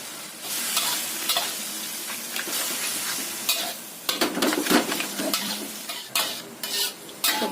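Ingredients stir-fried in a pan with sweet soy sauce, a loud close sizzle with bursts of scraping and spatula clatter against the pan, intensifying in the second half.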